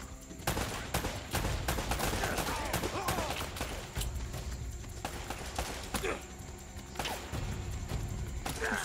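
Enemy gunfire in Uncharted: Drake's Fortune, a dense, steady stream of shots and impacts layered over continuous game action at moderate loudness.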